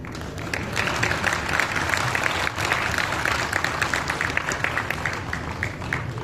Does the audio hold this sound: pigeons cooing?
no